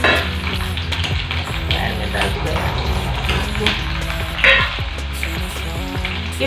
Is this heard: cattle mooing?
no